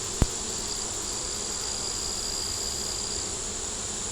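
Honeybees hum in a steady, dense drone from an opened, growing hive, close and continuous, with a single sharp tap near the start and no talking.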